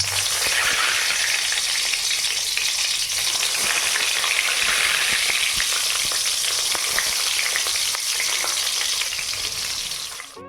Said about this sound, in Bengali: তেল ভালো মতো গরম হয়ে গেলে বেগুনগুলো একে একে গরম তেলের মধ্যে দিয়ে দিতে হবে